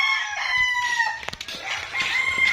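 Roosters and chickens at a gamefowl farm holding area, with overlapping crowing and clucking from several birds at close to moderate distance, continuous throughout with no talking.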